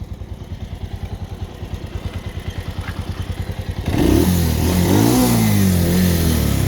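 A motorcycle that has just crashed on rocky ground idles with a fast, even putter, then revs up hard into a loud, sustained roar close by, with no talking.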